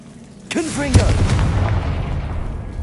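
A Confringo blasting curse in Hogwarts Legacy fires with a whooshing burst and then a booming explosion, loud and near, with a rumbling tail; a voice calls out just before the blast.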